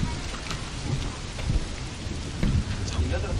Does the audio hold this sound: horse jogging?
no